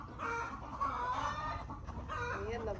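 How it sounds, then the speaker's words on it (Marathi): Chickens cluck steadily at close range inside a coop where eggs are laid, several birds overlapping in a continuous, busy chorus with no talk. "आतमध्ये कोंबड्या आहेत"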